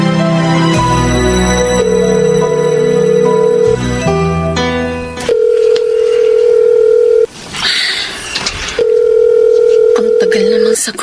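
A telephone ringback tone repeats as a call goes unanswered, a steady electronic beep pattern over background music, loud and near, with interruptions between rings.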